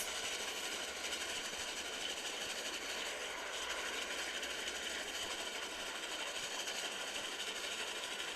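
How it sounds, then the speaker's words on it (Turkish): Steady rumble and clatter of a moving train carriage, heard from inside during a ride, a continuous broadband noise with no one talking. "Trene binip gittim arkadaşlar."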